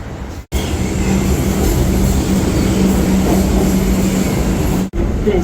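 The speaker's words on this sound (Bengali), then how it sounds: "মেট্রো করে যাবো।" Kolkata Metro train running underground toward Park Street, a steady loud rumble of wheels and carriage noise throughout, with a faint hum; two brief dips mark quick drops in the din.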